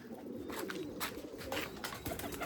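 White breeding pigeons coo softly in a loft, low repeated calls close by over a steady background hum.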